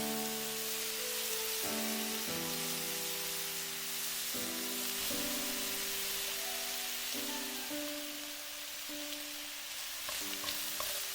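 Minced pork with Thai basil stir-fries in a wok after a splash of fish sauce, giving a steady, close sizzle that runs throughout over soft sustained background music.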